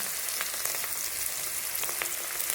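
Steady crackling sizzle of green chilies frying in hot oil, close and fairly quiet, with sharp little pops spattering throughout.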